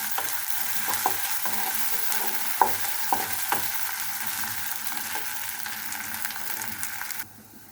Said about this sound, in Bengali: এখানে মশলাটা একটু ভাজা হয়েছে আমার